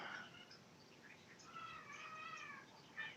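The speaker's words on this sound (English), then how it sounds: "it sounds like my cats are being weird." Pet cats meow several times, faint and somewhat distant, in a quiet indoor room, with no talking.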